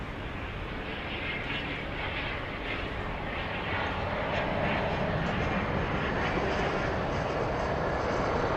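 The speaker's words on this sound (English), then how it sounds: "We've got a NetJets Embraer Phenom 300 coming in from Haley." A NetJets Embraer Phenom 300 business jet arriving at Dallas Love Field, its broad engine roar filling the air and growing slightly louder and nearer as it comes in, with no talk.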